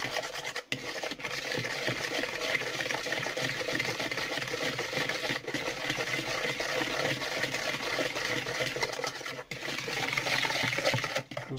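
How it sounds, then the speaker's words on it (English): A spoon rasps and scrapes continuously as a melted mixture is stirred into sugar and salt in a bowl, a close, steady gritty rubbing with a few brief pauses. "And start giving that a stir."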